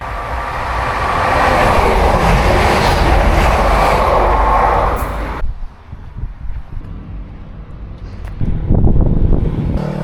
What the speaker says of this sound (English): Oh, there's another train coming.